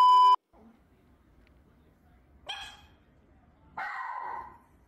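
A dog gives two short barks, a sharp one and then a longer yelping one, close and fairly loud after a brief electronic beep, against a quiet room.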